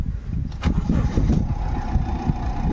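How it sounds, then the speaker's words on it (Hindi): A Honda Amaze car with engine vibration, low pickup and a check engine light fault starts up close by, its engine turning over and settling into a steady, rumbling idle. "अभी इंजन को स्टार्ट करेंगे"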